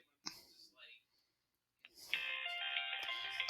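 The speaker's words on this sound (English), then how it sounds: "We got another phone call" A classroom telephone rings with an incoming call, a steady electronic tone starting midway and holding loud and close after a few soft clicks and murmurs.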